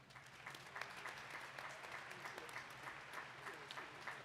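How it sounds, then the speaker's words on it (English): A graduation audience claps for the parents, the applause faint and distant, a soft continuous patter of many hands with scattered louder claps. "Let's give our parents a round of applause."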